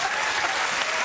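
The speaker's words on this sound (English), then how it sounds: "that's the scariest round of applause I've ever had." A television studio audience applauds steadily, a dense wash of clapping that fills the whole moment without pause.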